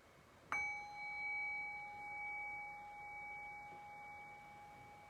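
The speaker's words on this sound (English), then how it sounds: "So I'll ring the bell." A single bright bell is struck once, then its pure tone rings on and slowly fades over several seconds.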